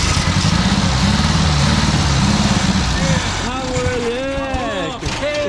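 An old Volkswagen Fusca's engine runs loud and close with a rough, pulsing idle that rises as it's revved, while someone talks over it near the end.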